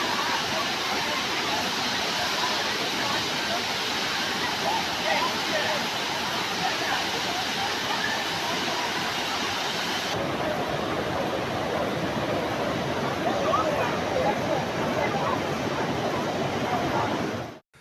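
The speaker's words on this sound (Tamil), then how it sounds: "திருவண்ணாமலை மாவட்டம் ஜவ்வாது மலைப்பகுதியில் பெய்து வரும் கனமழையால் பீமன் அருவியில் வெள்ளப்பெருக்கு ஏற்பட்டுள்ளது" Bhiman waterfall in the Javadhu hills of Tiruvannamalai district, in flood after heavy rain, roars as a loud, steady wash of rushing water that holds unbroken for the whole stretch before cutting off at the end.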